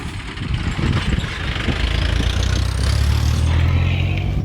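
A vehicle approaches fast along a potholed rural road, its engine rising to a loud, close, rough roar that builds steadily across the clip.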